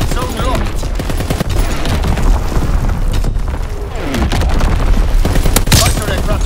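Artillery barrage in the Call of Duty WWII game, with a dense, continuous run of booming blasts and rattling gunfire that stays loud throughout and rises slightly toward the end.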